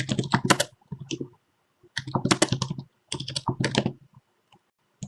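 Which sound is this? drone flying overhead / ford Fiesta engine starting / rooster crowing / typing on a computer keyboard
typing on a computer keyboard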